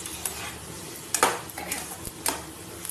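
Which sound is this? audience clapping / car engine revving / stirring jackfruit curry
stirring jackfruit curry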